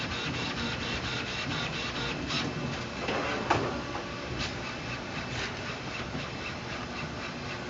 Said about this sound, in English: Printer poop is when the printer purges the nozzle